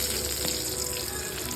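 Mustard seeds splutter and pop in hot coconut oil in a pan, a steady, dense sizzling crackle heard up close with no talking.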